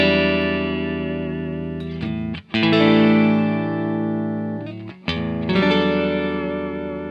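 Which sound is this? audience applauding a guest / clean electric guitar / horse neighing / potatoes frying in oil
clean electric guitar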